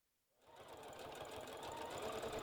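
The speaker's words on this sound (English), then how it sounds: "we're going to sew on top of this to hold this all in position" A sewing machine fitted with a twin needle stitches over folded elastic on bikini bottoms, starting up and running in a steady, fast mechanical chatter, close and alone.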